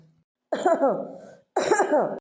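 Two harsh, raspy coughs close to the microphone, separated by a short pause, with no talking.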